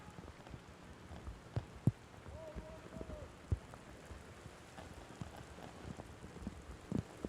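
Heavy rain falls steadily during an outdoor men's college soccer match, a faint, even wash of patter with scattered thuds and light wind noise, and a voice can be heard faintly underneath.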